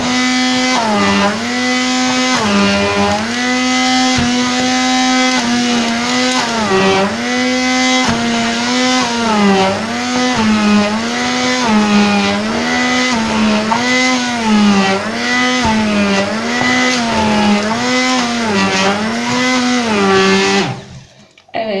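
An electric grinder powders granulated sugar with a loud, continuous motor whine that wavers slightly in pitch for about twenty seconds before cutting off abruptly.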